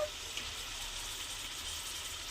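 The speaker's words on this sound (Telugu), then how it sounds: "ఇప్పుడు దీంట్లోనే చేప ముక్కలు వేసేస్తున్నానండి" Pieces of sandhuva fish go into hot oil in a pan for a fish iguru. A soft, even frying hiss continues throughout, fairly quiet, with one small clink near the start.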